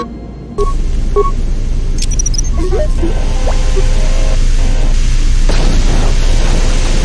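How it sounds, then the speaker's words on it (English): An explosive charge blows open a door in Star Wars: Knights of the Old Republic II, a sudden loud boom followed by a sustained roaring rumble that carries on steadily to the end. "Let's blow the bloody door, uh, door open."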